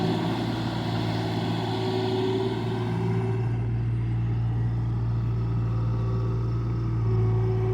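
A Kubota mini excavator's engine runs steadily close by, a low, even drone with a constant hum and no break, fairly quiet and without speech.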